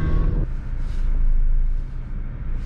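A Daewoo Lanos car driving, with steady low engine and road rumble throughout, a louder low burst at the very start settling into a continuous drone from inside the cabin.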